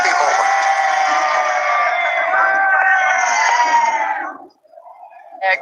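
A cricket stadium crowd at a Pakistan vs Australia match roars with steady, dense cheering and whooping for about four seconds, then drops off sharply, leaving a brief lull before a short burst of noise at the end.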